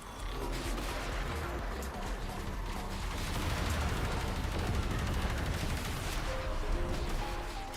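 Heavy ordnance and torpedo fire in a video game, a dense continuous barrage of booms and rumbling blasts at loud, even intensity, with voices talking over it.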